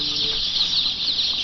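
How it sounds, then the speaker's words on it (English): Recently arrived baby chickens peeping in a dense, continuous high-pitched chorus of many chicks close by, getting their first drink of water on a farm. "Our second set of baby chickens arrived on Monday, and they're getting their first drink of water."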